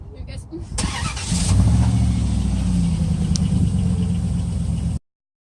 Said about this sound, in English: Cue car start.